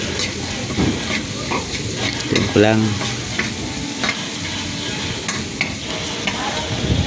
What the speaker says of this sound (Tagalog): Tapos haluin ko lang ulit.